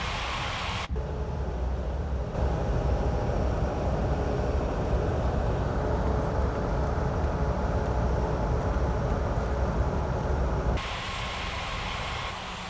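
Steady drone of an airliner taxiing to the runway in an air traffic control simulator game, a continuous engine hum and rumble that shifts in level partway through, with no voices over it.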